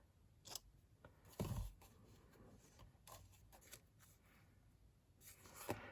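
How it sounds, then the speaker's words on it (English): Scissors snip once with a sharp, close cut while trimming a paper chocolate slider treat box, followed by a few faint paper rustles and handling clicks in a quiet room. "Going to snip."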